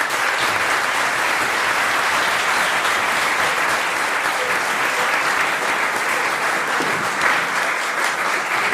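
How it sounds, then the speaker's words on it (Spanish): Sustained applause from an audience at a Spanish talk on the intellectual legacy of Escohotado, steady and dense for the whole stretch with no voices breaking through. "aplauso a la ponente que está."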